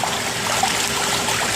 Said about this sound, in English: you can see that my switch is leaking water.